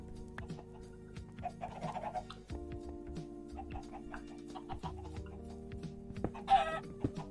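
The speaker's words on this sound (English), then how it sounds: "this is why we have so many chickens inside of our base right now" Chickens clucking inside a base in the Minecraft modpack Stoneblock 2, scattered soft clucks and one sharper squawk near the end over low sustained game music tones, quiet and without talking.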